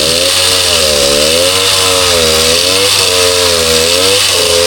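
A chainsaw cuts through wood while building a fence, its engine holding a loud, steady close-up whine that rises and dips in pitch as the blade bites into the timber.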